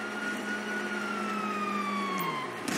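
Police sirens in Grand Theft Auto, a steady wailing tone that slowly falls in pitch, loud and continuous, with a short burst of noise at the end.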